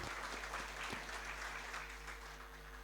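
An audience at a public conversation event gives a round of applause, a steady even patter of many hands, fairly soft and distant, continuing alone over a faint low hum.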